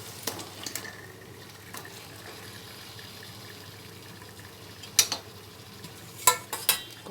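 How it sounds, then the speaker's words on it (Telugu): Fish pieces are added to a simmering onion curry (chepala iguru) and gently stirred with a ladle: a low, steady sizzle with a few sharp metallic clinks and scrapes toward the end. "మనం చేపలు వేసుకుందాం కూరలోని"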